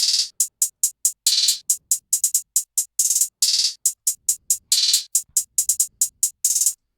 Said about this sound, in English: These are just playing a basic two-step with some rolls.